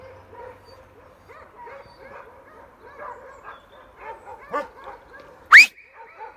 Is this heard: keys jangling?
no